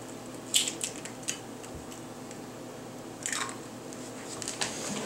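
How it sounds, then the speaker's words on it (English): An egg cracked on a bowl rim and dropped into milk for a schnitzel egg wash, giving two brief close cracking, squishing bursts about three seconds apart over quiet kitchen room noise. "we'll break an egg into it"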